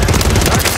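Rapid automatic gunfire rattles in Call of Duty Warzone, a dense, loud burst of shots packed into under a second.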